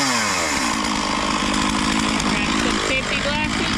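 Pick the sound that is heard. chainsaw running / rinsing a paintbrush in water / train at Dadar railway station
chainsaw running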